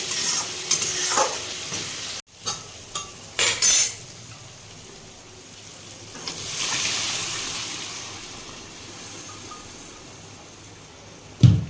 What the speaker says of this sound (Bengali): এখানে আমি ঘুগনির জন্য মশলা কষাচ্ছি